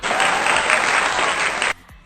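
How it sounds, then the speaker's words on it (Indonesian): Classroom applause from sixth-grade students for a classmate who presented her group's work, a dense burst of clapping that fills the room and stops abruptly near the end. "tepuk tangan untuk Mbak Naila dari kelompok 2"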